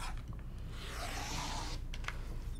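A rotary cutter slices a fabric strip for a Christmas quilt, a faint, quiet rolling rasp through the cloth lasting under two seconds, followed by a couple of small taps.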